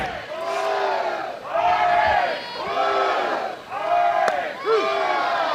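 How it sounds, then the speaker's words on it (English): A rowdy crowd at a Florida vs Florida State women's college softball game chants and cheers in loud, rhythmic surges, with voices rising and falling together in repeated swells. "This is a rowdy crowd."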